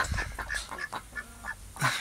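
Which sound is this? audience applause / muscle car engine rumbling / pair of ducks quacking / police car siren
pair of ducks quacking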